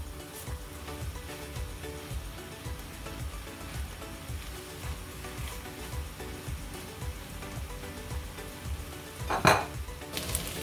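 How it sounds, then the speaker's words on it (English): Farm beef mince browning in a pan on medium-high heat for beef chilli, a steady close sizzle with repeated clinks and scrapes of a utensil against the pan and one louder clatter near the end. "I am cooking on medium high because until the meat get brown."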